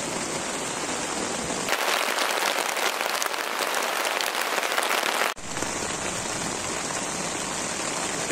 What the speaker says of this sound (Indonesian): Oke, deras-derasnya hujan.